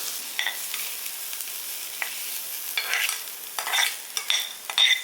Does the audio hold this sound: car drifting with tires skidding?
no